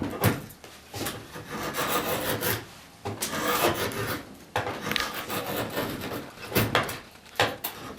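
Hand tool shaving and rasping wood while rounding over the top of a chair's arm rail clamped in a workbench, a close run of repeated rough scraping strokes with short pauses between passes.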